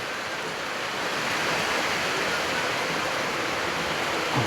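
Steady rain pounding a corrugated zinc roof during the wet season, a dense unbroken hiss that holds evenly throughout, close and loud with no voices.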